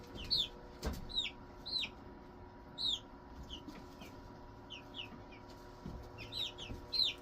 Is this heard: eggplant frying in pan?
no